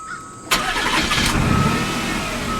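A Mazda Millenia S engine cranks and catches abruptly, then settles into a loud, close, steady idle with a slight rev at first.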